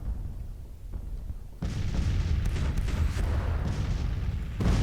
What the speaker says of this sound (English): some of the enemy artillery pieces are getting hit hard by counter battery fire